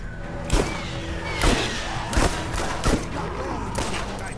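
Revolver gunfire in the video game Borderlands, several sharp booming shots spaced about a second apart over a dense game soundscape, with voices chatting alongside.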